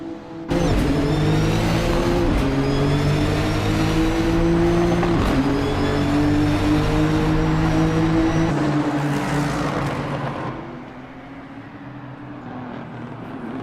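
GT3 race car engines in a racing video game at Twin Ring Motegi: loud, close, droning revs that shift pitch through gear changes for about ten seconds, then drop away to a quieter engine hum.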